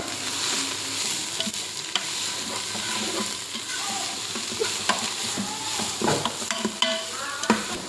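Cabbage fry with salt being stirred in a hot pan, a steady sizzle with scraping and clinking of the spoon against the metal throughout, fairly close and without talk.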